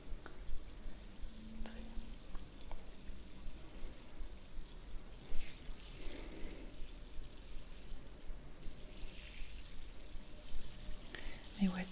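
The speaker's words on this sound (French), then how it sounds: "je vais refaire couler l'eau" Water runs from a salon tap while a hairdresser rinses hair, a soft continuous splashing hiss with faint handling noises and a brief spoken word in French.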